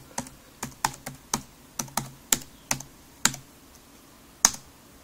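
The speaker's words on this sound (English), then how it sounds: "I'm just gonna, type in my password here on my keyboard." Crisp, separate keystrokes as a password is typed on an Acer Iconia Tab W500 keyboard in an uneven rhythm, about a dozen clicks, close up in a quiet room.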